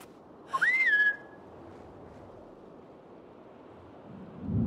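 A single clear whistle rises, wavers and trails off to call Bubbles in the game Grow: Song of the Evertree, heard alone over soft windy ambience with a low rumble at the end.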